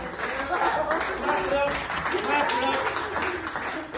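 Applause from a stand-up comedy audience at the close of a set, a dense burst of clapping with cheers and whoops, while the comedian's voice and laughter cut through on top.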